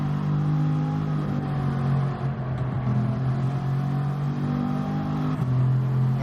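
A Bugatti's engine revs in the racing game Gran Turismo 7, a continuous loud droning tone that swells and dips slightly as the car accelerates, with no talking over it.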